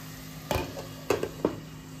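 Oil sizzles quietly under a lid as a stuffed pomfret fries in a covered pan, with a few sharp clinks and knocks of the pan or lid breaking through the soft, steady hiss.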